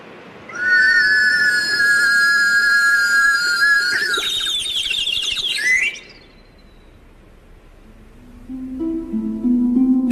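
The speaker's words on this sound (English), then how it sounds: "Just a cup attached to a warbling whistle being lowered into a tank of water." A shrill warbling whistle attached to a cup, lowered into a tank of water, trills like a bird for several seconds, wavering and bubbling before cutting off, followed by lower tones near the end.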